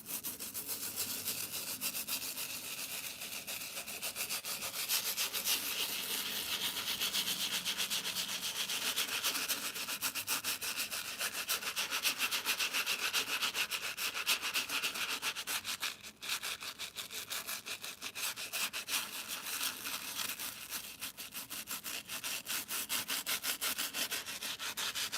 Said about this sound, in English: Get your brush nice and sudsy and just start scrubbing.